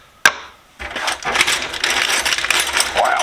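A bag of wrenches from a flea market tool haul is handled: one sharp metallic clink, then a long run of rustling and clattering steel tools shifting close by.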